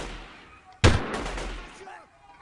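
A single sharp burst of gunfire in the Delta Force video game cracks out loudly and rings off into a short decaying tail.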